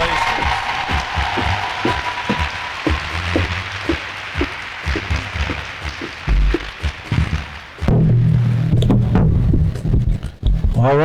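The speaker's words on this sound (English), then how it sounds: "Let's give a round of applause for all of our seniors." Audience at a high school seniors' celebration clapping for graduating students, a sustained round of applause with scattered voices, swelling louder and denser near the end.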